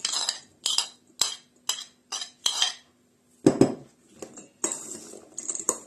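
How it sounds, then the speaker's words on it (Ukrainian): A salad of roasted vegetables with pickled cucumbers being mixed in a bowl. A utensil gives a run of quick clinking taps and scrapes against the dish, close and fairly quiet, with short pauses between strokes. "Я до салату ще додаю мариновані огірки і змішуємо."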